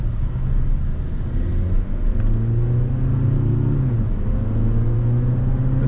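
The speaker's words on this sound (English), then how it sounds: "this is just the 4-cylinder driving right now" A Mazda CX-90 plug-in hybrid's non-turbo four-cylinder engine drones steadily while driving, a loud, even in-cabin hum with a slight rise in pitch partway through, no voices over it.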